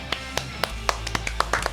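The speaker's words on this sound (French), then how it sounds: "On peut les applaudir." A few people clap unevenly in a radio studio setting, scattered sharp claps at irregular intervals, fairly faint and brief rather than a full ovation.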